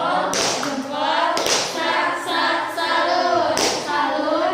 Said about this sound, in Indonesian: Oke, beri tepuk salut.